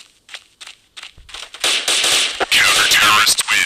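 Gunfire in the mobile shooter Special Forces Group 2, a scatter of sharp shots building into loud rapid bursts, with crackling reports layered over game sounds.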